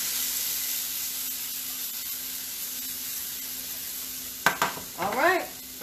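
Onions fry in a pan with a steady, quiet sizzle, then a few sharp clinks and scraping stirs break in near the end.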